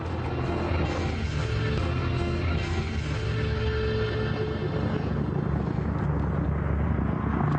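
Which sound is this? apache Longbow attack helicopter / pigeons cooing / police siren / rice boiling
apache Longbow attack helicopter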